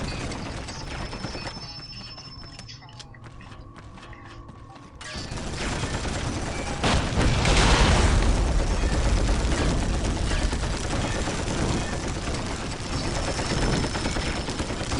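Heavy gunfire in Warhammer 40,000 Dawn of War, beginning with mechanical clatter and sporadic shots, then swelling into a dense, sustained roar of rapid battlefield fire that stays loud to the end.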